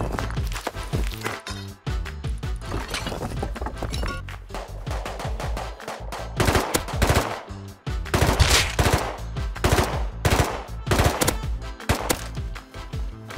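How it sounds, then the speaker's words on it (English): Rapid bursts of automatic gunfire from a gun in a video game crack out loud and close, in repeated clusters with brief gaps, some stretches denser and heavier than others. "This gun is actually insane with burst."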